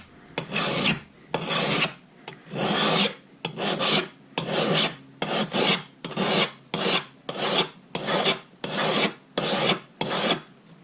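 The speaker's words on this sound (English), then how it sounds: "you just take the corner of an old worn out file that won't cut steel very well anymore, and you scrape it." An old worn file is scraped across a silicon carbide sharpening stone in about a dozen rhythmic rasping strokes. Each stroke is a harsh, gritty rasp, close and clear, with short pauses between strokes and no talking.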